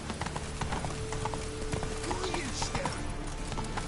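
The horse Roach's hooves in a video game clip-clop in a quick steady rhythm, mixed with game sounds and a person talking over them.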